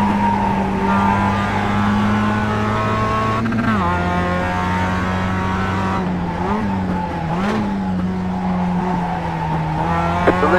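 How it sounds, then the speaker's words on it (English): A Mazda MX-5 Cup race car in iRacing at Laguna Seca holds a loud, steady engine whine that drops and wavers as it spins out, with faint tire squeal through the slide. "The lead is spinning now."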